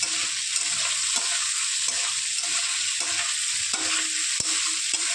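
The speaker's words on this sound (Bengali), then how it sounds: "দিয়ে ভালো করে কষিয়ে নেব। বেশ ভালো করে নেড়ে চেড়ে নিতে হবে।" Cauliflower being stir-fried in a pan sizzles loudly and steadily, with repeated scraping strokes of a spatula breaking the hiss about once a second; no one speaks.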